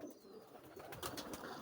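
Pigeons settle at night, giving soft, low cooing and faint rustling at close range in a quiet space.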